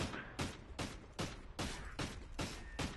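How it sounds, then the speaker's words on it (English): Gunfire in the shooter Call of Duty: Ghosts, a shot through a fence killing a player: about eight sharp, evenly spaced shots at roughly two per second, fairly faint, with no talk. "You even shot the fence and killed him."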